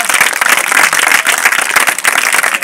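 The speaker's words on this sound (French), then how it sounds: "acclamons ça très bien" Applause from an audience at a Good Friday church service fills the space, dense continuous clapping, loud and close throughout.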